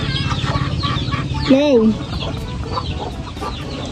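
Chickens cluck close by while being fed, with a busy stream of clucks and one louder rising squawk, as people talk nearby.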